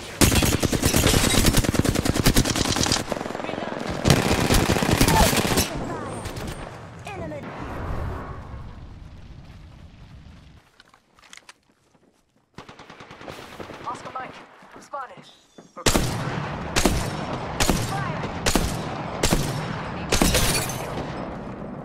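Bursts of rapid automatic gunfire and single shots ring out in the Apex Legends video game, loud and close. They come in dense volleys at the start, fade to a quiet stretch, then return as a run of evenly spaced heavy shots.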